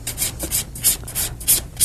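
Acrylic nail being filed with a nail file, rhythmic rasping strokes about four per second, close and steady, with no voices.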